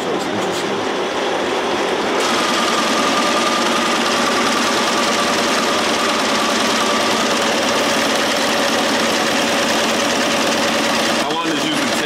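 An embroidery machine stitching at about 600 stitches a minute hums and clatters in a fast, steady mechanical rhythm, loud and close, with a brief change in the tone near the start and again near the end.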